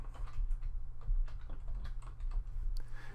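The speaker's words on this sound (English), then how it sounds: "and I can type my password." Fingers type a password on a computer keyboard under Windows 10, a short close burst of quick, uneven key clicks.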